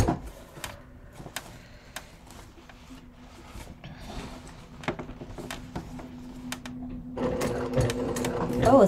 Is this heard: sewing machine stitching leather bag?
yes